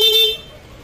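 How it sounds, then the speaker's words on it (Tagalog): A short Honda Click 150 scooter horn toot sounds at the start, then cuts off after a fraction of a second, leaving quiet background noise. "Busina."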